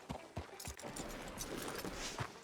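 Horse hooves clip-clop at a steady walking pace in the Red Dead Redemption II video game, a handful of close, moderately quiet thuds with soft background ambience and no talking.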